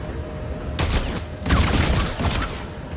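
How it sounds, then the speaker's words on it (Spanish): Secondary-fire weapon blasts from Dead Space 3, two loud, close, crackling discharges about a second apart with a smaller burst after, over a low ambient drone. "No me acordaba del disparo secundario"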